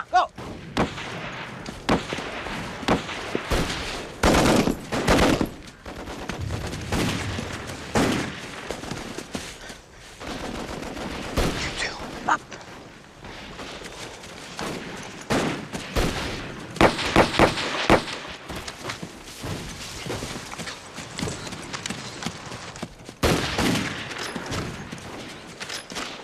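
Gunfire in an action movie battle scene, with bursts of machine gun fire and heavy blasts coming in irregular clusters among rumbling effects, moderately loud throughout a dense mix.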